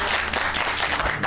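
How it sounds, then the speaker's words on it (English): An audience at a cake-decorating masterclass breaks into loud, steady applause, a dense wash of clapping filling the short moment close and full. "Another round of applause for her"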